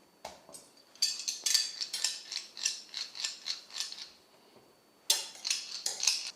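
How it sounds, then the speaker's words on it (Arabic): Knife working through soft, sticky dough for soufflé pastry, a series of sharp scraping and clicking strokes against a bowl or board, close and rhythmic with a short pause midway. "وراح نبدأ نعجن فيها لمدة 5 دقائق، ودائما باستعمال السكين"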